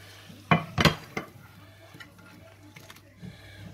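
A pan of crayfish tails is warmed with onion, garlic, parsley, salt and pepper: a few sharp metallic clanks and scrapes of utensil on pan come early, then soft stirring and faint sizzle continue quietly.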